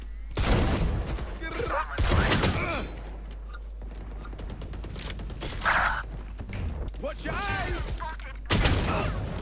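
Gunfire from the Valorant tactical shooter game, several loud sharp shots and short bursts spaced across the clip, with players talking over much of it.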